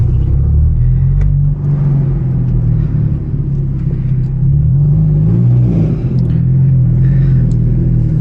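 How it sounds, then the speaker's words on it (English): A modified Hyundai Genesis Coupe 2.0T turbo exhaust heard from the driver's seat, a loud, continuous low rumble with slight revving swells, filling the cabin throughout without speech. "might as well give you guys a nice exhaust POV of what it sounds like from the driver's seat"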